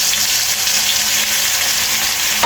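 Steady, loud sizzling of a pork chop frying in hot oil, a continuous crackling hiss close up with no talking.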